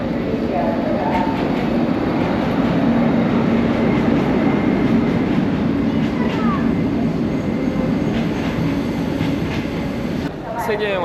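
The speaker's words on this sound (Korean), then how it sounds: "처음 타는 기차잖아" Steady rumble of a passenger train rolling through Laos, heard from inside the carriage, with a continuous low drone and faint rattling throughout and soft voices of passengers in the background.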